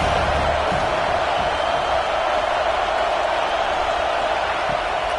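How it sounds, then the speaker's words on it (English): Home stadium crowd in the NCAA 26 college football video game, App State versus Notre Dame, roaring in a steady, dense wash of noise that holds at full level throughout with no let-up. "how nice is it to have the home crowd going absolutely bananas?"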